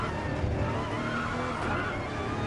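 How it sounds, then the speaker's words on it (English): LMP1 prototype race cars lapping the Monza circuit, a steady loud engine roar with tyre noise that holds throughout without a break. "Very quick cars as the LMP1 cars."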